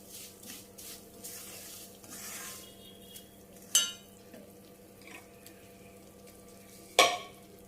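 Quiet sizzle of spices and asafoetida frying in oil in a pan, with two sharp metallic clinks of a utensil against the pot.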